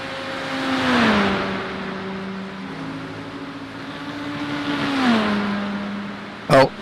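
A Porsche race car engine in a racing game at Watkins Glen, with a steady droning whine that rises and falls through gear changes twice, followed by a brief sharp burst near the end.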